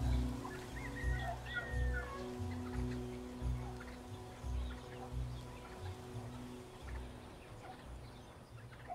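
Chickens cluck and murmur in a flock on a poultry ranch, a steady chorus of low, close clucks with a few higher calls over a continuous background murmur.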